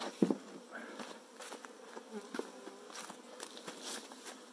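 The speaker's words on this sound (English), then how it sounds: "They will start fanning from here to let the rest of the hive know where they are." Saskatraz honey bees buzz at the entrance of a newly installed hive, a close, steady droning hum from many insects with a few sharper passes and faint tapping, no voices.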